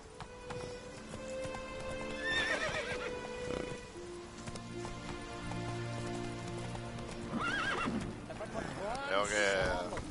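A horse in the video game The Witcher III: Wild Hunt, with clip-clop hoofbeats and a couple of loud neighs and whinnies over rain on surfaces and background music.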